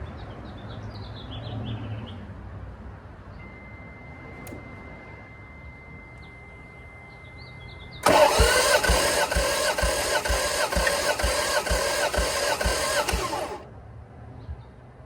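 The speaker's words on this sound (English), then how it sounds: "crank it before I even get to start the car" A car engine, from a 240Z or MR2 project, cranks over with the starter during a compression test, a loud rhythmic whirring churn that starts suddenly and runs about five seconds before stopping, following a quiet stretch with faint chirps and a thin tone.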